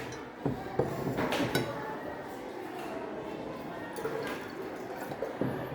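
Water poured and trickled into a measuring cylinder during a school physics practical on finding the density of a solid, with small drips and clinks against glass under people talking.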